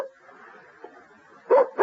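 A dog in a 1976 CBS Radio Mystery Theater drama barks twice near the end, sharp and close, after a quiet stretch of faint room tone.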